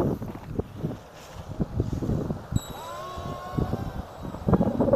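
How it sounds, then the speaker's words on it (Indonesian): Strong wind over rice fields during a paragliding flight, buffeting the microphone in irregular gusts and rumbles, with brief mechanical creaks and a thin tone partway through, no clear speech. "angin ini gede banget kok"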